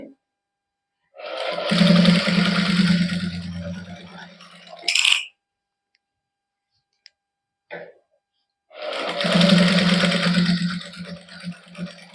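A sewing machine stitches lace onto a cotton suit in two loud whirring bursts of a few seconds each, separated by quiet pauses with brief small clicks.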